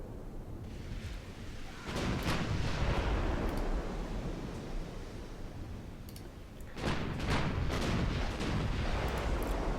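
Heavy 11-inch battleship guns firing in a naval warfare video game, two deep, booming salvos with rumbling tails, loud and close with no talking.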